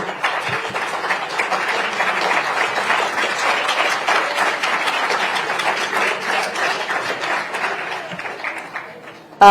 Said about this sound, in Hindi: जोरदार एक बार तालियां तो बजाइए